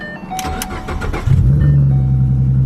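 A Ford Mustang that has sat for weeks in Arizona heat cranks briefly with a whirring starter, then fires and settles into a loud, deep, steady idle, close by.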